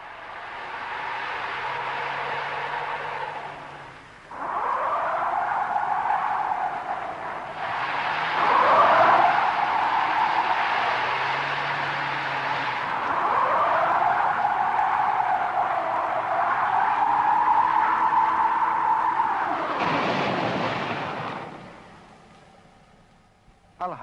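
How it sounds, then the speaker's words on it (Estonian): A front-wheel-drive car on a winter road loses front-tyre grip under heavy throttle, its engine roaring in long sustained surges with tyre noise, while a narrator speaks over it. "Aga kui gaasi vajutatakse liiga tugevalt, kaob vedavate esirataste haardumine mootori suure jõu tõttu."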